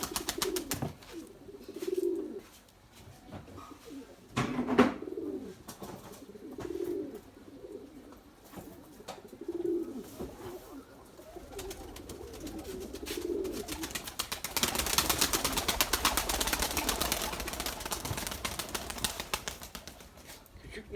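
Young white Erzurum pigeons coo softly in bursts while being fed, with low throaty calls repeating through the first half, then a steady rustling, scratchy noise takes over.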